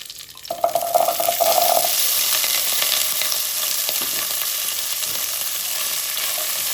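Shallots and Kashmiri chillies hit a hot pan and burst into a loud, close sizzle that settles into a steady, even frying hiss, with no voices.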